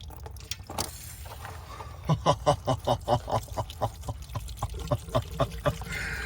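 Floodwater drains out of a totally submerged Pontiac Solstice. It starts as a faint trickle, then turns into a run of rhythmic glugging bursts, each spurt coming close and loud in quick succession.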